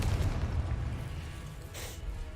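A low, rumbling blast from the Confringo spell in a Harry Potter video game booms close and heavy at the start and then tails off into a lingering roar, with a brief hiss of debris near the end.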